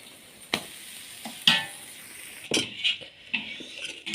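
Carrot barfi mixture being cooked down in a pan and stirred to dry it out: a soft, steady sizzle broken by six or so sharp scraping strokes of a spoon against the metal, close up, with no talk.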